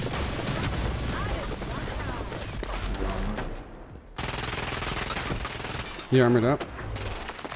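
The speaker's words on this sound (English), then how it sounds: "Oh, I'm getting shot at." Rapid gunfire in the battle-royale shooter Hyper Scape crackles steadily throughout, with one louder burst of shots near the end, while a player talks over the action.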